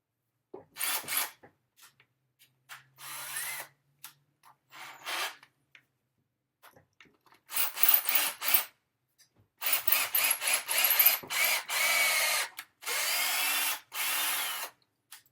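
Power drill boring holes to pin the parts of a sculpture figure, sounding in repeated short bursts of varying length, close and fairly loud, with quiet gaps and a few faint scraping touches between.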